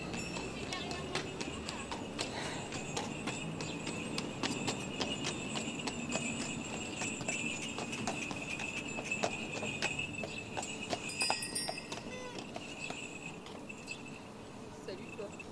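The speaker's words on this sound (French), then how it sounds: "Donc il a 2 calèches, il alterne un cheval au repos et le deuxième va faire un tour." Horse hooves clip-clop from a horse-drawn carriage in a mountain village, heard against a steady chorus of crickets and insects, with intermittent sharp knocks and light background bustle.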